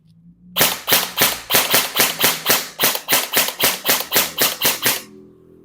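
An HK-style airsoft gun fires in semi-auto, about fifteen sharp, evenly spaced cracking shots in rapid succession, loud and close, then the firing stops abruptly.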